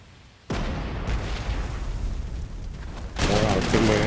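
Artillery fire in the Panzer Corps 2 wargame opens with a sudden booming blast that rolls on as a rumbling barrage, then a second heavy volley lands near the end.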